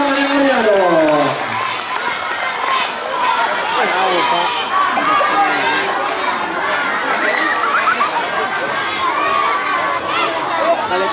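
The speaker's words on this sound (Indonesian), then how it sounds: "Tepuk tangan yang meriah dong." Schoolchildren at an Islamic New Year event clapping, cheering and shouting, a busy lively crowd din with overlapping young voices and chatter running throughout.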